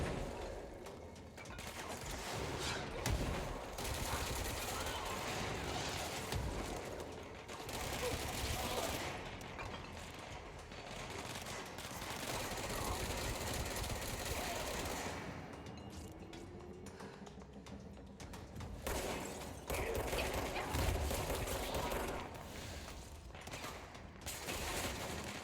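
Gunfire in a firefight in the video game Control: repeated rapid shots and bursts, some in quick strings, others spaced, over a continuous dense background of impacts and mechanical clatter, at moderate distance throughout.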